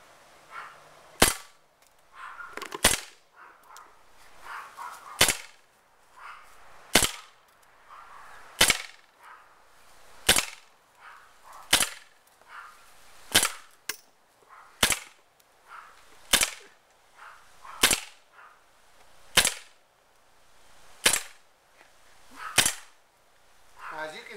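A CO2 gas blowback pistol fires about sixteen sharp, loud shots one at a time, in an even rhythm roughly every one to one and a half seconds, each crack followed by a brief mechanical clack, with faint background noise between shots.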